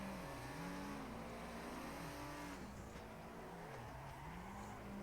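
A drift car's engine in the Assetto Corsa racing game, revving continuously and rising and falling in pitch through repeated shifts and throttle changes, loud and steady throughout with no pauses.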